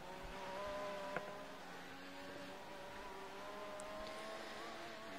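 A Caterham F1 car's engine in the F1 2014 racing game at Belgium, a steady sustained drone with a faint tonal whine, running continuously without pause.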